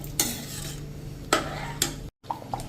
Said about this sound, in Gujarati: હવે આપણે આને મેં તમને કીધું એમ 1 મિનિટ આ રીતે કન્ટિન્યુ ચલાવશું